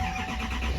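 A 2019 Chevrolet Silverado 3500 truck engine cranks and catches, a loud close rumble that rises toward the end of the short burst.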